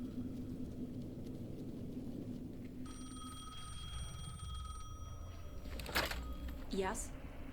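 A telephone rings in the video game Alan Wake 2, a single sustained electronic ring near the middle of the clip over a quiet ambient background, followed by brief sharp sounds.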